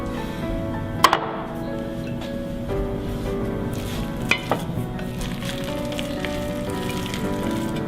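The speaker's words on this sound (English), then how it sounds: "Let's get it into our 8x8 dish and ready to get" A quinoa mixture is scraped and spooned into an 8x8 baking dish, with soft wet squishing and spoon scrapes, a couple of sharp clinks against the dish, all close and continuous.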